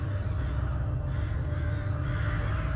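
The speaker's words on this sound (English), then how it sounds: "there's that bird again" A bird caws in the horror video game Rise of Insanity, the call set in a thick, steady bed of dense ambient noise that fills the short stretch without any talking.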